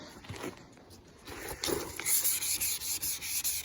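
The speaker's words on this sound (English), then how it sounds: "So after sanding for about a minute or so of the 800 grit" A car headlight is wet-sanded by hand with 800 grit sandpaper, making a soft, rhythmic rubbing and scraping that grows a little louder partway through, with no voices.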